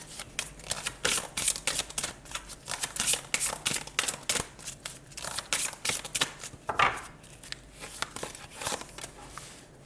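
Tarot cards are shuffled for a personal-development reading, giving a continuous run of crisp riffling and slapping card noises, close and fairly loud, with no talking.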